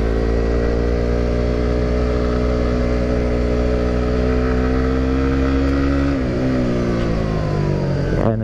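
A motorcycle engine labouring steadily up a steep mountain road in low gear, loud and close, droning at a constant strained pitch before the revs dip and shift near the end.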